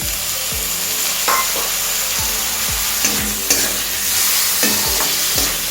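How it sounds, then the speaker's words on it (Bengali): Chopped tomato goes into frying coconut in a pan and is stirred, a loud close sizzle broken by repeated spatula scrapes and knocks at a brisk, uneven rhythm. "নারকেল ভাজা হয়ে গেলে এর মধ্যে আমি এবার কুচিয়ে রাখা টমেটোটা দিয়ে দিচ্ছি"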